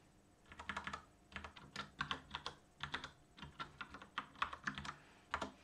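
Rapid keystrokes on a computer keyboard clatter close and steady, in uneven bursts with short pauses between runs, with no voices.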